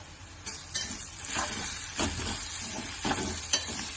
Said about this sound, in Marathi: आता आपण त्याला परतून घ्यायचं आहे.